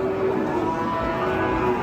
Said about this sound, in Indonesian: buandel ini sapinya